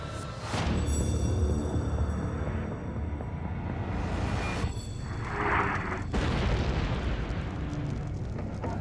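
A massive volcanic eruption sounds as a loud, continuous, roaring explosion, with sharp bursts breaking through a sustained thunderous rumble that lasts throughout.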